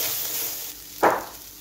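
Food shallow-frying in a small amount of oil gives a continuous soft hiss, with a short louder burst of sizzle about two-thirds through that then settles back.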